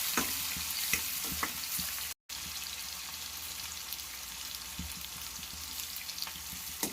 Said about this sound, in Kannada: ಈರುಳ್ಳಿ ಬ್ರೌನ್ ಆಗೋವರೆಗೂ ಫ್ರೈ ಮಾಡ್ಕೊಳ್ಳೋಣ